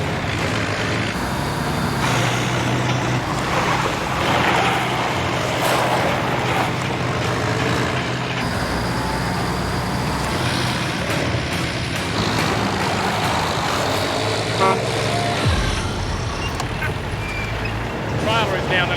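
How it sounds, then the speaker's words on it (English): Heavy diesel machinery straining in deep outback sand as a telehandler tries to drag a bogged Kenworth truck and trailer free, a constant loud rumbling drone with shifting mechanical clanks and a sharp drop-off near the end. "The telehandler has one more chance to get them out."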